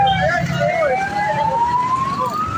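A wailing fire engine siren rises and falls in pitch over a noisy street during a house fire in Rodriguez, Rizal, Philippines, with indistinct voices and traffic rumbling underneath.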